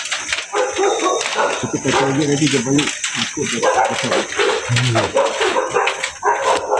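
A large dog barks and yips repeatedly at close range while people talk loudly over it, the barks coming in short bursts mixed with the voices.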